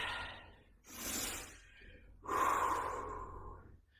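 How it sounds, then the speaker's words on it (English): Deep, heavy breaths between sets of a bodyweight strength workout: a long forceful exhale, a pause, then another loud, drawn-out breath, close and without speech. "Deep breathing."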